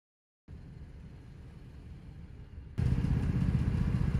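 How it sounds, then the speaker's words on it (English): A Toyota engine idles roughly with fuel cut to cylinder one, a low uneven rumble and clatter that grows noticeably louder partway through, with no talking. "You can see the idle dropped and it runs rough now."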